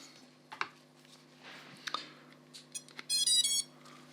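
A short, bright electronic beep tune from a Happymodel Crux35 FPV drone after its battery is plugged in, preceded by faint clicks and handling noise nearby.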